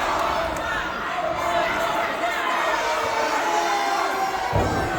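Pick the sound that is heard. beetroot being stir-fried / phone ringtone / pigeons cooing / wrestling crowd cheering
wrestling crowd cheering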